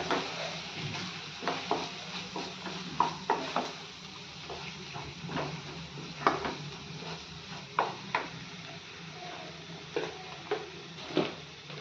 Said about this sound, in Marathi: त्याच्यामध्ये जिरं आणि खोबरं घालून घेतलं ते भाजून घेऊया थोडंसं परतून घेऊयात